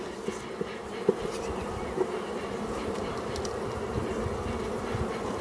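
Honey bees swarm around hive frames as old frames are swapped out. A dense, steady buzz hums close by throughout, with a few faint knocks and no talking.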